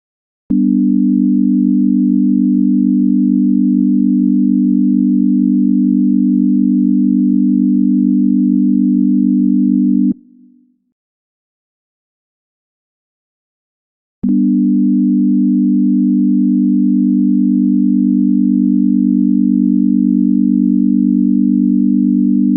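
A steady synthesized chord in equal temperament held for about ten seconds, a brief silence, then the same smooth, buzz-free sound returns and sustains to the end.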